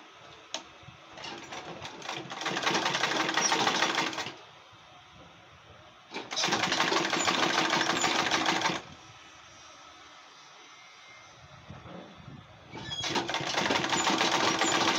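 Sewing machine top stitching an Ankara fabric school bag, three bursts of fast, steady mechanical whirring separated by quiet pauses, close and clear with no talk.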